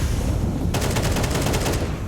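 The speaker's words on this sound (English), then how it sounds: "Shui, what a shot through the Molotov." Rapid gunfire breaks out partway through a Counter-Strike pro match, a dense burst of rifle shots from M4s and AKs in quick succession over a steady background of game ambience.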